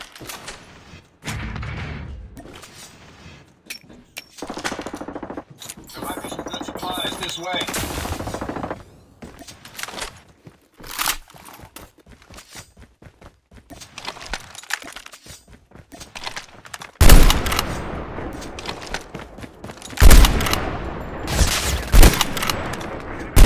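AK117 assault rifle fire in Call of Duty Mobile battle royale comes in repeated loud, close automatic bursts separated by pauses, with scattered impacts and occasional game voice lines between volleys.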